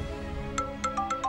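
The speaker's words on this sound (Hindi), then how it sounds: "फोन बज रहा है।" A phone ringtone plays in a quiet room as a series of short, bright electronic beeps in a quick uneven rhythm, faint and close.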